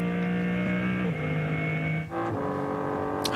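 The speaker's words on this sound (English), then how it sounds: "listening in to what is effectively still the BMW M4 GT3 turbocharged engine" BMW M3 Touring race car with the turbocharged engine of the BMW M4 GT3, running at the Nürburgring during 24-hour race qualifying; a steady, loud engine drone with a sustained tone that dips and shifts briefly, then holds on.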